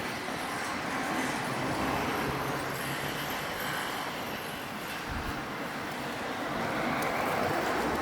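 Car driving past on a 30 km/h Amsterdam street, a steady broadband roar of tyres and engine rushing by close and fairly loud, with general city traffic noise around it.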